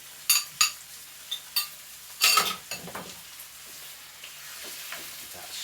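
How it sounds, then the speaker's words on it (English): Marinated chicken drops into a hot, brand-new wok with sharp hissing bursts, then a soft sizzle continues alongside scraping and clinks of a utensil against the pan. "Now we're going to hear some sizzle because I'm about to put marinated chicken in."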